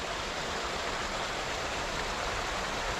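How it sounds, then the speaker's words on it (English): A small icy waterfall on a snowy creek along a wooded trail gives a steady, even rush of falling water, close and unbroken, with no voices. "It is gorgeous though, kind of a little icy waterfall here."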